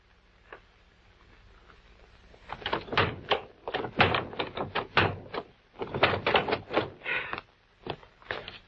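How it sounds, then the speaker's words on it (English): A sticking door is forced open in an old-time radio crime drama, heard as a run of close knocks, scrapes and rattles after a quiet start, with no voices. "Door kind of sticks."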